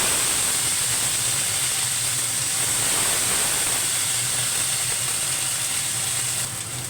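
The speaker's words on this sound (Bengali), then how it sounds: "এবার আমি ওই যে মশলাটা মিক্সিতে বেটে রেখেছিলাম, আদা, পেঁয়াজ, টমেটো, ওটা দিয়ে দিলাম" A ground paste of ginger, onion and tomato fries in hot oil for a fish curry, giving a loud, constant hissing sizzle that stays steady throughout, close up, with no speech.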